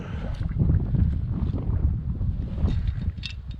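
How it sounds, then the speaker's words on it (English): Steady low rumbling wind buffeting the microphone outdoors on a trapline, loud and continuous with gusting swells, no talking. "It's windy. I apologize for the wind."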